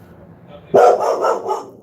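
A dog barks several times in quick succession indoors, loud and close, the barks rising suddenly out of a quiet room during a live online session.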